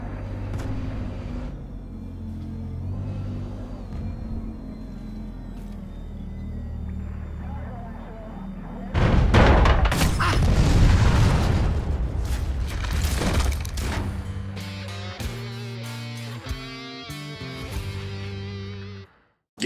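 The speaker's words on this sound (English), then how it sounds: "Flying in planes, they might as well be giant buses that people shoot out of the sky" Aircraft engines and explosions from the online shooter Planetside 2, a steady game soundscape with low rumble that swells into a loud, dense burst of blasts and roaring flight noise midway, then settles back under layered effects.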